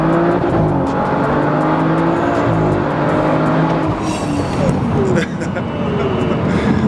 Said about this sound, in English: he's gonna do basically a launch